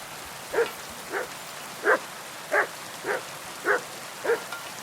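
Steady single barks from a dog in the rainy Kingdom Come Deliverance 2 game world, seven evenly paced woofs at moderate distance over faint rain hiss.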